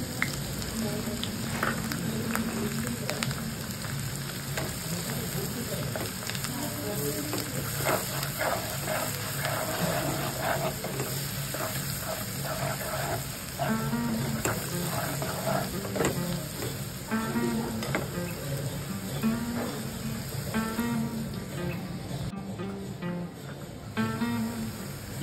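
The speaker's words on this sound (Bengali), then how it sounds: "এবার ফোড়নটা ভালোভাবে হয়ে গেলে তাতে পেঁয়াজ কুচিটা দিয়ে দিলাম।" Chopped onion sizzles steadily in hot oil with tempering spices in a pan, a constant close frying hiss with occasional stirring scrapes and no voices.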